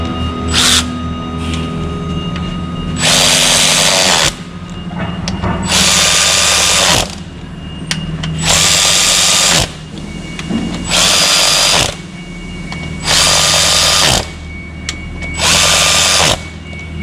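A Makita cordless ratchet whirs loudly in six or so short bursts of about a second and a half each, spinning fast with clicking, geared mechanical noise and brief quieter gaps between runs.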